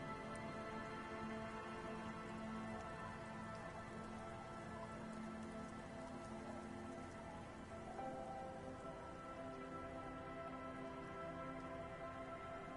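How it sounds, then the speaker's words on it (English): Steady rain patters onto the yellow hull of a boat in a video game, a continuous dense hiss of drops that holds at an even, soft level throughout with no voices. "She looks at the rain streaming down the yellow belly of the boat."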